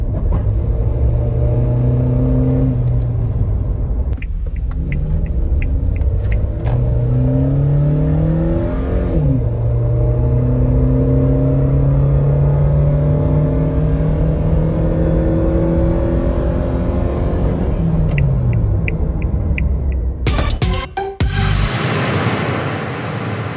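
A Toyota Tundra truck fitted with a new air filter drives and revs, engine pitch rising and falling through several gear-like sweeps, loud and close from inside the cab, with clicks and a knock near the end.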